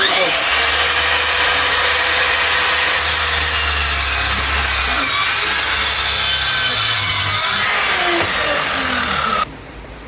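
Hand saw cutting through wood for a mandolin body, a loud continuous rasping stroke close by that stops abruptly near the end.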